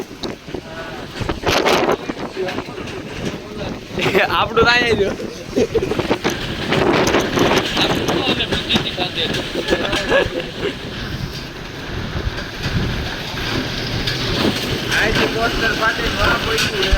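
Gusty storm wind in Atkot roars steadily against the microphone, loud and continuous, while people talk and shout excitedly over it.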